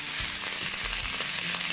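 Cabbage stir-fried over high heat in a wok, a loud, steady sizzle and crackle filling the whole stretch, with rough scraping pulses of the spatula tossing it close by.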